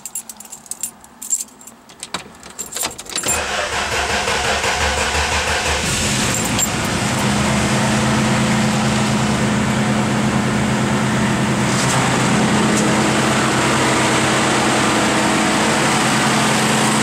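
A 1963 Dodge Dart with a replaced terminal and a failed AC: keys jangle briefly, then the engine cranks and catches, settling into a steady, close idle that runs for the rest of the clip.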